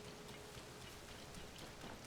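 Steady, faint rainfall in the video game Zelda: Tears of the Kingdom, a soft continuous patter of drops with no voices.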